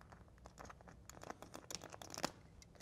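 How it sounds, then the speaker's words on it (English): A knife slices through sill pan flashing during a wood-clad window installation, giving a short, close run of crinkly tearing and crunching scrapes that builds to a sharper rip near the end. "I want to find this lower corner and make a vertical cut"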